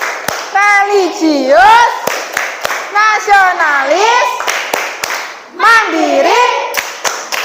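A class of students claps a rhythmic tepuk PPK routine in unison, with sharp, evenly spaced claps mixed into loud group chanting that rises and falls in short phrases.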